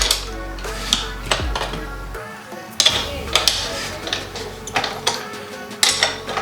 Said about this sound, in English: Then we're gonna put our axle nut on, and we're gonna torque it.